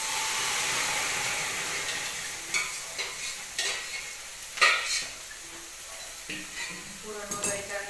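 Sweet lentil puran cooks in a pan with a soft sizzle, followed by a series of irregular scraping and clinking strokes from a utensil stirring it, close by and moderately loud.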